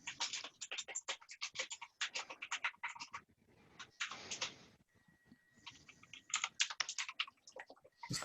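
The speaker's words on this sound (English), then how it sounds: "He's typing like crazy too." Rapid bursts of computer keyboard typing, fast clattering keystrokes in quick runs with brief pauses between them, close and clear.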